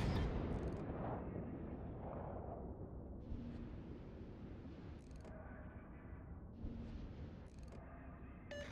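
Heavy battleship main guns firing in World of Warships, deep booming salvos that rumble and roll away, with sharp reports recurring several times against a low, sustained background roar.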